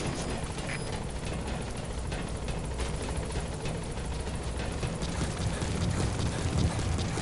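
The Pequod helicopter from the video game Metal Gear Solid V arrives with a loud, steady rotor roar and engine drone that fills the whole stretch without a break.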